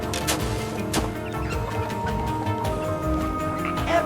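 Cartoon chickens clucking at feeding time, a busy overlapping run of short clucks and bird calls at close range, with brief voice sounds among them.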